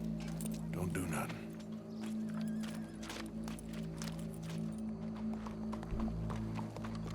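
Horse hooves clip-clopping on a street in the Red Dead Redemption 2 video game, a steady run of hoof beats over constant background game music and ambience, with speech present through the scene.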